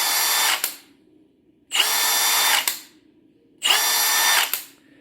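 A four-year-old Hart variable-speed power tool with a slow brake whirs loudly in three separate bursts, each shrill run winding down briefly once the trigger is released, with short near-silent gaps between.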